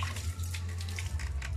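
Water runs steadily while dogs are being bathed, a continuous splashing rush with a few brief spatters and no voices.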